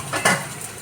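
Spices frying in a pot for banana curry, stirred with a utensil: a couple of quick scraping, clattering strokes against the pot, close and fairly loud over a faint sizzle.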